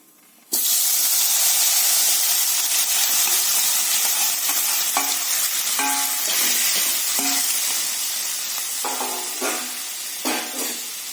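Tomato pieces drop into hot oil and fry for a spicy red chilli pickle, bursting into a loud steady sizzle with repeated stirring scrapes and clinks close by, no talking.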